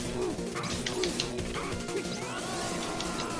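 A boss slams the floor in the Pulseman video game, giving loud, repeated crashing impacts over dense, continuous game music and effects.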